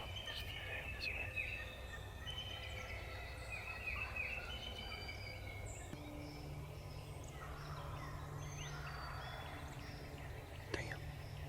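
Outdoor woodland ambience with several distant wild turkeys, including a longbeard gobbler, calling and gobbling among other birds, faint and steady, with an occasional quiet murmur of voices.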